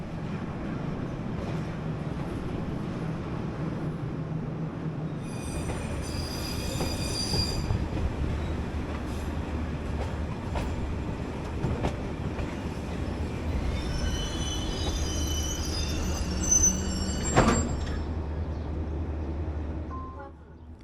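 A night train on Vietnam's Saigon–Hanoi main line rolls toward Binh Tuan, a continuous low rumble of wagons and wheels on track with intermittent high metallic squeals and one sharp screech near the end.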